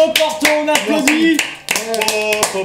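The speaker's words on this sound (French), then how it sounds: "Bravo Porto, on applaudit." A small group claps in short bursts among cheering voices during a living-room Mario Party 10 game session, the hand claps sharp and close, with people talking over them.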